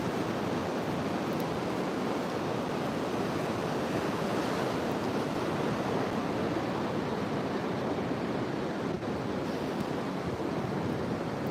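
Heavy ocean surf pounding a coastline, a dense unbroken roar of breaking waves and churning water, loud and steady throughout, mixed with some wind noise and no talking.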